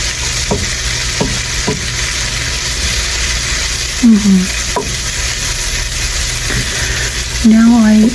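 Chopped onion sizzles and stirs steadily in a hot pan as it caramelizes, a constant frying hiss with occasional spoon scrapes and a person talking softly at moments.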